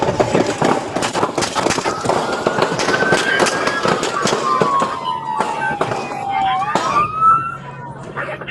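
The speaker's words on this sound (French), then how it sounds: "Coup de feu." Sharp bursts of gunfire crack out repeatedly during a police foot chase, layered over a wailing siren that sweeps up and down, with shouting voices mixed into the loud, chaotic scene.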